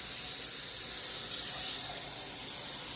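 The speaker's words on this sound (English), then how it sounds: "Add a little water to it, and then I'm going to pour it on." Water pours over cabbage and splashes in a steady, close hiss for a few seconds without a break.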